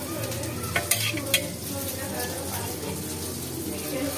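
Mustard seeds crackling in hot oil for tempering before frying pumpkin, a dense close sizzle with a few sharp pops and utensil clinks near the start.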